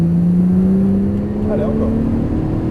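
A Porsche GT3 Turbo goes to full throttle on a track, its engine note climbing steadily in pitch and staying loud and close, with someone talking over it.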